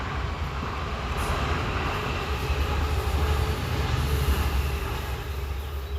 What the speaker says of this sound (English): Sorry for the back noise from the train that just passed by.